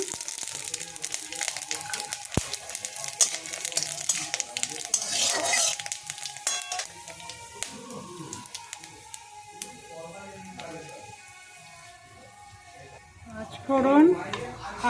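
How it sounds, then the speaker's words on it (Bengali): Dried red chilies and panch phoron hiss and crackle as they temper in hot oil, a soft steady sizzle heard close while someone talks over it and a spoon stirs near the end. "এরপর ওই তেলেই শুকনো লঙ্কা ফোড়ন দিলাম, পাঁচ ফোড়ন"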